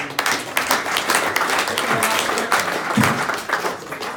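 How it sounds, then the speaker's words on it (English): Sustained round of applause from an audience at a golf club presentation night, dense steady clapping throughout with a brief voice or two underneath. "Round of applause for that."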